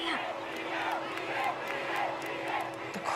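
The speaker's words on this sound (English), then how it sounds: "The crowd going mad for me" A concert crowd in São Paulo cheers and screams continuously, a dense roar of voices with occasional shrill whoops rising above it.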